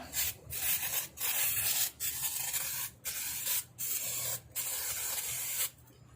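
A homemade refillable air-pressure spray paint can, filled with paint thinned with thinner, sprays in close hissing bursts of about a second each, separated by brief silent gaps.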